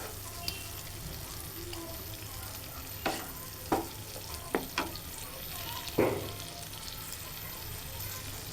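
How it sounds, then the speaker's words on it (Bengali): Tomatoes, green chillies and spices fry in oil for a tilapia curry, a quiet steady sizzle broken by several sharp scrapes and knocks of a spoon stirring the pan. "এখন টমেটো আর মশলা একটু সুন্দরভাবে কষিয়ে নেব।"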